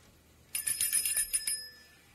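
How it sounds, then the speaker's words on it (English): A bell rings to summon, giving a rapid run of bright metallic trills close by that lasts about a second before fading, with no talking. "The cue, the trigger is the ringing of the bell."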